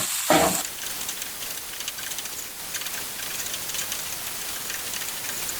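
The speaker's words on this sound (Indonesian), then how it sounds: "ini kita aduk rata, tumis hingga mengeluarkan aroma yang wangi." Spices with bay leaves, lime leaves and asam kandis stir-frying in oil, a steady dense hiss of close sizzling after a brief loud clatter at the start.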